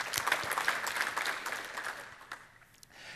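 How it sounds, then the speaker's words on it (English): An audience at a Windows Server tech talk gives a round of applause, a brisk wash of clapping that thins out and fades toward the end. "maybe we should start with a round of applause for the unsung hero"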